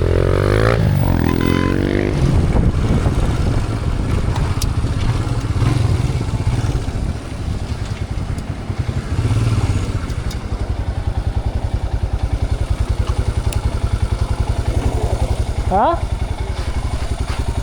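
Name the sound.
dirt bike engine riding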